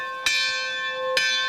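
An antique toy train's bell strikes twice, each clang ringing out with a bright, sustained metallic tone, loud and close, with no voices.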